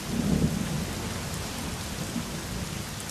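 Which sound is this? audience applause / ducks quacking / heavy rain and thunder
heavy rain and thunder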